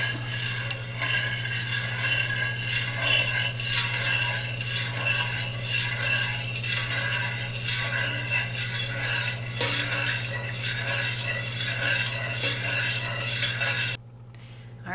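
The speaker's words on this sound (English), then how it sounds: "I'm just going to stir it in with a spoon to begin with" A spoon scrapes and swirls steadily through lye and oils for soapmaking in a container, a rhythmic stirring sound with a low steady hum beneath it.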